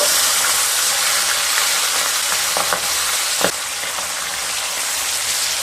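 Flipped pabda fish fry in mustard oil with a loud, dense, continuous sizzle, broken by a few sharp spatter pops and light utensil knocks partway through.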